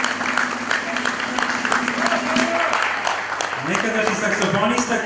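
An audience applauds at a Vlach folk music performance, steady clapping under a voice speaking over a microphone, with instrumental tones rising late in the clip.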